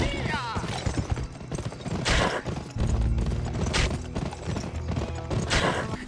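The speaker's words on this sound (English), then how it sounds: "spurring the horse to run slowly kills it as you can hear the horses grunting" Horse hooves clip-clop at a gallop with grunting snorts and a whinny from the horse in the Western video game Gun, set over a busy in-game soundscape with occasional bursts of noise.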